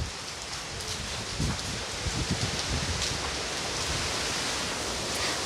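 Steady rain falls outdoors as an even, dense wash of patter, fairly loud and unbroken throughout, with no talking.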